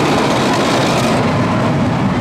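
A roller coaster train at Six Flags Great Adventure, Harley Quinn's Crazy Train, rumbles past loud and close in a dense, continuous roar with rattling wheels and no voices.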